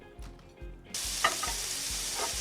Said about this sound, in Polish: Dobra, idziemy smażyć.